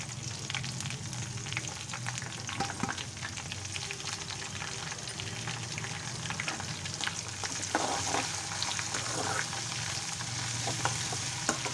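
Curry leaves and garlic paste fry in hot oil for a bitter gourd pickle, giving a steady, dense sizzle with scattered crackles and a few stirring scrapes, close and continuous throughout.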